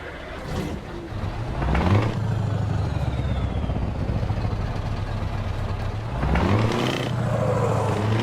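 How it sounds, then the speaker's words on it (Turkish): Steady low engine drone with a throaty exhaust rumble from a Scania V8 truck in Euro Truck Simulator 2, swelling briefly as the motor revs near the start and again toward the end. "Şuradan bir egzoz sesi dinleyelim."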